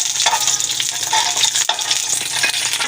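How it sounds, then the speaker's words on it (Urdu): Fennel seeds with cardamom browning in a pan at the start of jaggery rice, a loud, steady, close sizzle with faint stirring scrapes throughout and no talking. "سونف جو ہے نا، وہ آپ کے سامنے میں تھوڑی سی بھی براؤن کر رہی ہوں۔"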